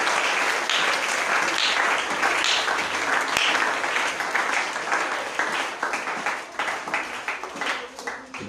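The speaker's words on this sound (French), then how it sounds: "Est-ce que tu peux acclamer pour la gloire de Dieu?" A church congregation at a Sunday service applauds, a dense, loud and sustained crowd clapping that thins into scattered claps near the end.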